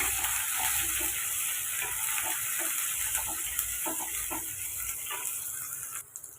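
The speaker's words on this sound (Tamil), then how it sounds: "ஒரு மிளகாய் கொஞ்சமாக வெங்காயம் சேர்த்துட்டு இப்போ அதை வதக்கி விட்டுருங்க" Onion and a chili sautéing in a pan for a lunchbox dish, a steady close sizzle with soft stirring scrapes throughout and a short break near the end.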